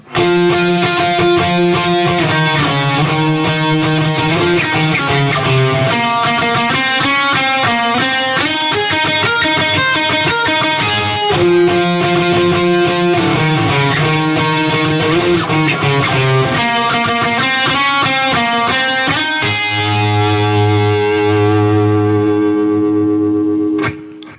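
Heavily distorted electric guitar plays the bridge of a song slowed down, a sustained riff with a thick, saturated tone, loud and continuous, easing into held chords near the end.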